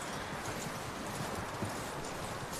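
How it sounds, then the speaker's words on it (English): Horse hooves clip-clop steadily through a dense, busy game soundscape in Red Dead Redemption 2, a continuous loud wash with no clear gaps and no speech. "That looks like a decent horse."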